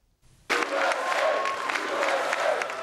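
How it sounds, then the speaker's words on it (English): Loud crowd applause and cheering for Donald Trump on election night 2016, bursting in abruptly after a brief quiet moment and holding steady as a dense, continuous roar of clapping. "Election night 2016, and Donald Trump is soaking up the applause, surrounded by his children"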